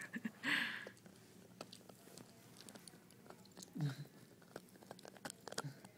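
A puppy chews on a toy close by, soft wet crunching and gnawing clicks scattered over quiet background, with a couple of brief louder rustles.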